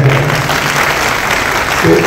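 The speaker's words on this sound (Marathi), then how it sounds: "फक्त जोरात टाळ्या घ्या." An audience applauds at a public lecture, a dense, steady burst of many hands clapping together, loud and close, lasting a couple of seconds.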